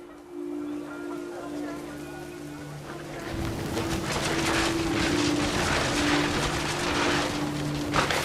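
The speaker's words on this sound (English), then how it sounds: "The rain came down in buckets then, but no one seemed afraid that nature might destroy the tent our dad had crudely made." Heavy rain pouring on a family's makeshift tent in the video game What Remains of Edith Finch, a steady hiss that swells louder midway, with a sustained low tone and faint bird-like coos underneath.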